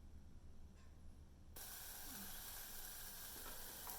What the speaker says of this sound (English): We're going to let that saute until the onions start to caramelize just a little bit.